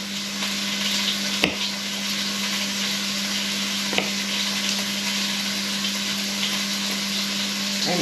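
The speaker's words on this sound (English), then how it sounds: "as you can hear, the beef cheeks are sizzling in the pan" Beef cheeks sizzle steadily in a hot pan for braising, a continuous broadband frying hiss with a low hum beneath and a couple of sharp clinks, no talking.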